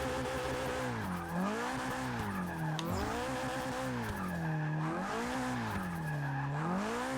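A Nissan 240SX drifting in Forza Motorsport 6 wails with long, wavering tire squeal that rises and falls in repeated sweeps over a steady engine drone, loud and continuous with no talking.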